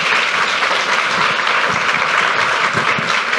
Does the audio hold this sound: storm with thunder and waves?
no